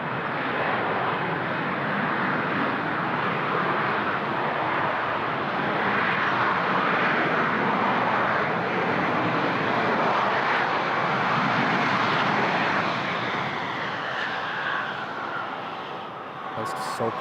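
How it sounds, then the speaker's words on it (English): A jet airliner lands at Toronto Pearson airport and applies reverse thrust, a loud continuous roar that holds steady and then eases slightly at the end, with voices talking over it. "Lots of reverse thrust."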